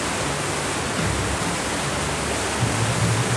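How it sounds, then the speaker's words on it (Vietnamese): Strong water current roaring through a canal sluice gate, a loud, steady broadband rush like a waterfall that continues without a break. "Đây, bây giờ thì mực nước chảy cũng khá là mạnh nha các bạn."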